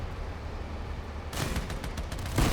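Heavy cannon fire from vehicles in the post-apocalyptic combat game Crossout, a dense burst of overlapping loud booms and cracks that starts partway through and keeps pounding to the end.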